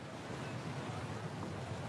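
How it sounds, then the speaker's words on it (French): Steady headwind gusts over the Red Sea around a sailboat, a faint, even broadband rush of wind and sea noise with no voices. "Mais le vent qui souffle de face,"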